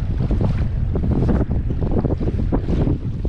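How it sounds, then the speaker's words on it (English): Steady wind over an open marsh lake at about 12 to 13 mph, roaring continuously into the microphone with gusty buffeting and a wash of choppy waves, loud and unbroken throughout. "Got a 12 to 13 mile an hour wind."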